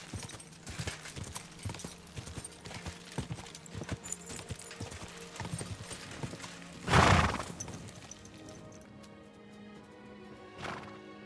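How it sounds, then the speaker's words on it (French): Horses in the medieval video game Kingdom Come: Deliverance II, hooves clip-clopping in a steady galloping rhythm, then a loud whinny partway through and a fainter neigh near the end, with no talking. "Oh, il y a des chevaux"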